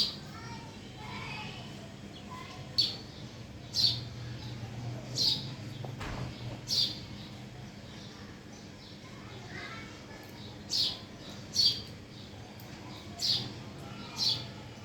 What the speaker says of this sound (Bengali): আমাদের বারান্দায় চড়ুই পাখি ডাকতেছে